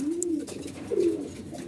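Pigeons coo in a backyard loft of laying birds, two low, throaty rolling coos close to the mic, with no talk.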